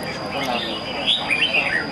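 A red-whiskered bulbul sings in a caged songbird competition, short bright whistled phrases rising over someone talking and crowd noise.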